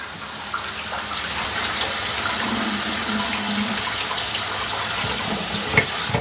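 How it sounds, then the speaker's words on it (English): Cold tap water runs steadily into a kitchen sink or pot to cool freshly cooked garden vegetables, a continuous mid-level gush with no talking over it. "I'm going to put it right in here and we're going to cool them down with some water"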